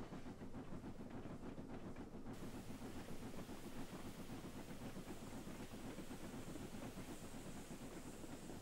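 A steam locomotive running on the West Somerset Railway in a video game, heard as a quiet, steady rumbling chug with rhythmic rail clatter and a faint hiss, continuous and unbroken, with no voices.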